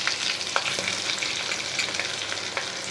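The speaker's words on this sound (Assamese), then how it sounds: "সেইটো কাৰণে মই কম জুইত ভাজি আছোঁ" Spiny gourd and potato pieces frying in oil over a low flame, a dense, continuous sizzle close by with occasional light stirring taps, no voices.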